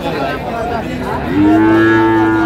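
A Friesian cross heifer calf lets out a loud, drawn-out moo at the Raniganj cattle market in Dinajpur, close by after a stretch of murmuring market background.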